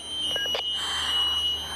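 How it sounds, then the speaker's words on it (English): A steady, high-pitched electronic building alarm tone sounds continuously indoors, with a couple of soft knocks near the start. "What is that beeping noise?"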